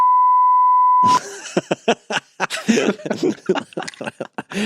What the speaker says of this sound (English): I get to use the beep